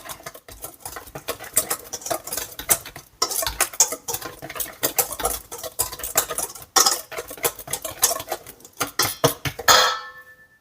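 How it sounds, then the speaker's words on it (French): A whisk beats a mixture of apple juice and cinnamon in a bowl for apple fritters, making quick, continuous rapid clicking and scraping strokes against the bowl with brief pauses, close and fairly loud. "À présent, je prends le fouet."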